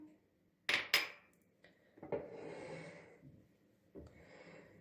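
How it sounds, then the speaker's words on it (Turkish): A tablespoon of citric acid is spooned into a kettle for descaling: two sharp metallic clinks of the spoon, then rattling and rustling scrapes, close and fairly quiet. "Evet şöyle bir yemek kaşığı kadar Limon tuzumu bırakacağım."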